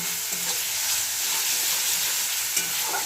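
Spice masala for an egg omelette curry frying and being stirred in a pan, a steady close sizzle with faint scraping of the spoon, no talking.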